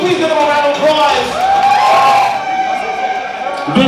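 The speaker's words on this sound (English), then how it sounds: "We please give them a round of applause." Crowd cheering and applause at the Groovy Ball fashion show rises loud and steady through the whole stretch, with whoops and shouted voices mixed into the noise and a brief dip near the end.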